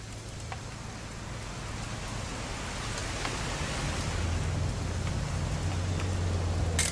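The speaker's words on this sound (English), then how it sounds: "It's going to rain the whole weekend," Steady rain falls in the video game What Remains of Edith Finch, a constant even hiss that swells slightly over several seconds, with a low hum beneath and no voices.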